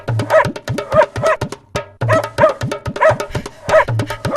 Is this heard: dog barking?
yes